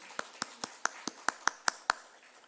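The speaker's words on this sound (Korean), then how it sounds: "우리 환영의 박수" Congregation at an evening church prayer service clapping in welcome, nine or so distinct sharp claps in a steady, even rhythm, close and moderately loud with quiet between.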